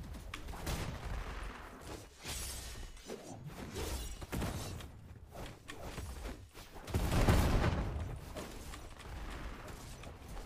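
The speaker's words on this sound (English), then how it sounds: "Firecracker!" Firecrackers go off in the Roblox game Project Smash, a dense run of sharp cracks and bangs with a louder burst near the end, amid whooshing game noise.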